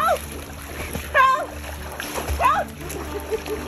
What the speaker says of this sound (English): Splash, Hannah.